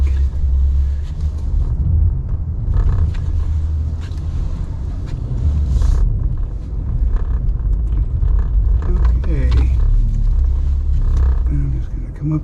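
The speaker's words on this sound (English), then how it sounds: "I need to plow that snow off" A truck plowing snow in Bass Harbor, Maine, the day after a blizzard, with a steady low engine rumble, creaks and scraping clunks of the plow, and occasional brief speech.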